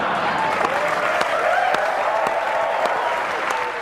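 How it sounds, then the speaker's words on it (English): Studio audience applause fills the room steadily, a dense wash of many hands clapping with scattered sharper claps, sustained at even loudness with faint voices mixed in. "You may applaud."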